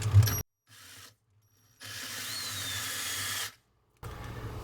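A small drill pre-drills a hole for a screw-in hook, whirring in two short bursts separated by silence, the second longer and steadier, with a brief mechanical clatter at the start and end.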